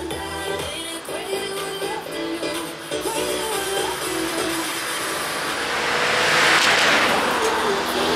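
Cars and motorcycles in a junior cycling race convoy roll past on the road, a broad engine and tyre rush that swells near the end while a voice talks over it.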